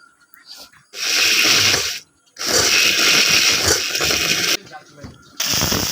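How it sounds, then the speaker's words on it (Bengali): A kitchen blender grinds onion, ginger, garlic and mustard with water into a paste, running loud in bursts with short pauses between them, and a brief faint murmur before the first burst. "জল দিয়ে আমি সব পেস্ট করে নেব"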